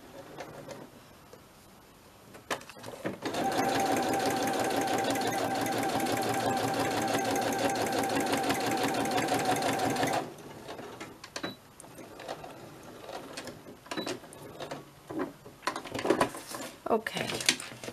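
Sewing machine stitching a fabric journal cover in a close, steady mechanical whirr lasting about seven seconds, then stopping, followed by scattered handling clicks and rustles.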